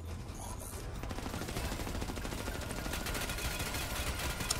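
Rapid automatic gunfire from a helicopter in the shooter game Crysis 2, a steady, fast machine-gun rattle that runs continuously under a busy, noisy combat mix at fairly low level.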